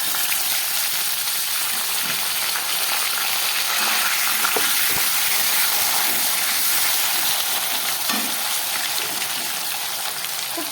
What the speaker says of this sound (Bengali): এই পটলগুলোকে ভেজে দিচ্ছি।